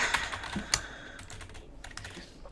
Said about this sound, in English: Let's type it up.